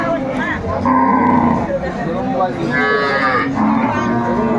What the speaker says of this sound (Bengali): এটা হচ্ছে গাভী